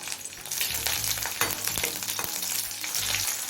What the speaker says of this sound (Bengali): তেল গরম হলে দিচ্ছি পাঁচ ছটা কাঁচা লঙ্কা